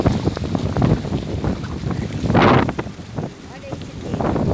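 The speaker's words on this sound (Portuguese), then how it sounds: "Tá de tardezinha, uma ventania." Strong wind gusting across a countryside home on a late afternoon, a steady roaring rush with a louder gust near the middle, close to the microphone with wind buffeting.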